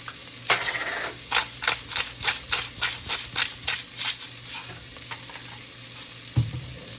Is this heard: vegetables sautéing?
yes